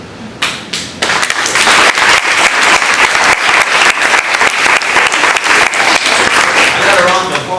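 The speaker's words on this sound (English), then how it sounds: "I got a round of applause" A large keynote audience breaks into applause: a few scattered claps first, then dense, loud, sustained clapping close by that carries on without letup.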